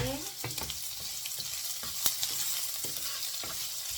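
Garlic and onion sautéing in a pan, a steady quiet sizzle with several soft scraping stirs and one sharper clatter, close but low in level.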